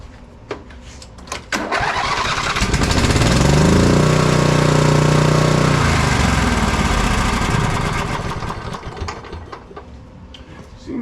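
A riding mower's engine, checked over for a sale and repair, starts with a few sputters, then roars up loud and steady for several seconds before dropping back to a rougher, uneven idle.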